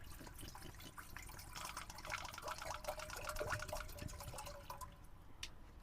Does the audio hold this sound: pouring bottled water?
yes